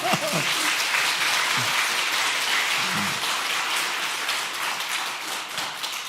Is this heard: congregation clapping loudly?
yes